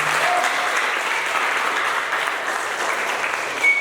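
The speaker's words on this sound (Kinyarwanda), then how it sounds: "Reka dukubera amashyi umwungere wacu." A church congregation claps for its pastor, a dense, even burst of applause lasting a few seconds at close range, with no talking.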